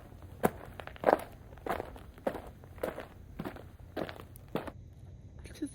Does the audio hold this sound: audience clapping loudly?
no